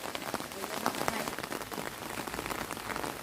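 Steady rain pattering on leaves and ground in a Thai vegetable garden in Hungary, dense and continuous with scattered louder drops close by, no voices.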